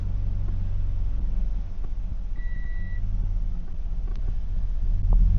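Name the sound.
car engine running with new gearbox and clutch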